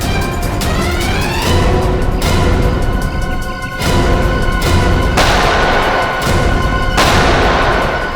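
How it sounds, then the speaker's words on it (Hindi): Dramatized gunfire in a CID police TV drama plays loud and close as a dense run of booming shots and crashes, with sharp bursts repeating throughout, clustered heavily around several moments. "वहां से चल रही है गोलियां।"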